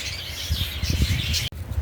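Racing pigeons at a loading station in Muntinlupa make busy chirps and squawks over a low rumble of handling noise, with a brief sharp click near the end.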